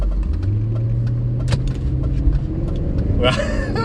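A BMW E39 engine hums and rumbles steadily from inside the car after a rough-idle repair, with someone talking over it.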